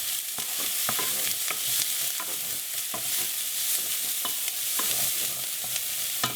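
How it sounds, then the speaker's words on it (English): Onions sautéing in a pan for a tolma sauce, a steady close sizzle and frying hiss with repeated sharp stirring clicks of a utensil against the pan, no voices. "Just saute onions a couple of minutes until they're"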